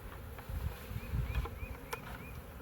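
Honey bees from a freshly captured spring swarm buzz inside a bucket, a soft steady hum with a few brief louder passes close by, low rustling beneath and no voices.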